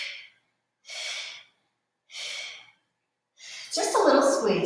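Breathy exhales during a pelvic floor workout, three separate soft puffs of air at even intervals, close up, followed by a longer, stronger breath that runs into a voiced sound.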